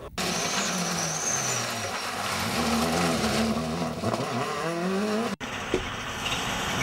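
A 2000-spec Subaru rally car on a West Cork Rally stage, its engine revving hard with rising and falling pitch through gear changes, loud and close, ending with an abrupt cut and a quieter tail.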